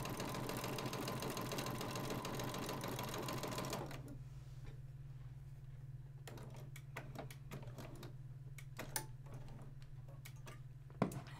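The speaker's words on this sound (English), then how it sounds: "And again, sewing down this side of the orange." A sewing machine stitches a quilt piece in a fast, even mechanical whir for about four seconds, then stops and leaves a steady low hum with scattered clicks of fabric and thread handling.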